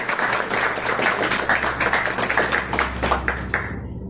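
Audience at a Christian worship gathering applauding to welcome a singer, a dense, sustained burst of many hands clapping close by that tapers off at the end.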